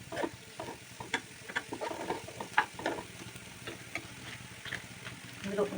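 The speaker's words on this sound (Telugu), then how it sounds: "ఇది కొంచెం బాగా వేగనివ్వాలి" Crushed garlic fries in a pan for a spring onion curry, giving a low, steady sizzle broken by light taps and clicks of a stirring utensil. The sound is fairly faint and close.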